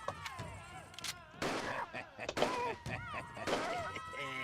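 Gunshots in a video game, several sharp bursts spaced irregularly across a few seconds amid tonal game music and effects, with voice heard mixed in.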